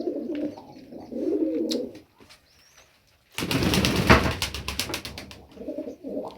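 Pigeons coo in soft, repeated bursts inside a pigeon loft, then a loud flurry of flapping wings breaks in before the cooing resumes nearby.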